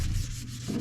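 An oiled tack rag rubs briskly across a wooden boat part, making a brief, close, breathy scrubbing swish.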